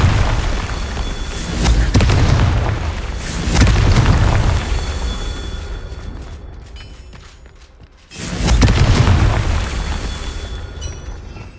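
A Confringo fire spell explodes in the Hogwarts Legacy video game, with heavy booming blasts that roll out loudly in repeated bursts, a short quiet gap, then another big detonation.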